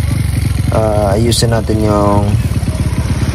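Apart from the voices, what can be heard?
motorcycles revving and idling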